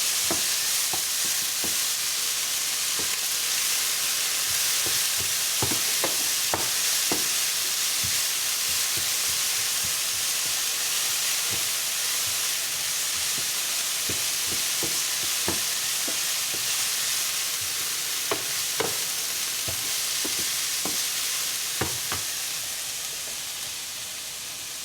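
Cantonese fried rice ingredients sauté in a pan with a steady, even sizzle throughout, broken by frequent sharp scraping clicks of stirring, no talking.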